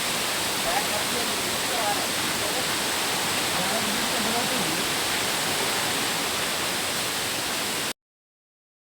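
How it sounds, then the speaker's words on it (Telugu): A continuous roaring rush of falling water at the Mallela Theertham waterfall near Srisailam, dense and steady from start to finish before cutting off abruptly. "వాటర్ ఫాల్స్ అని చెప్పి వచ్చినాము, మంచిగా ఉన్నాయి."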